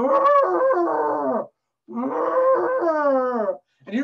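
A person's voice imitating an elephant during a balloon storytime, two long loud trumpeting roars with a short pause between, then the start of a third.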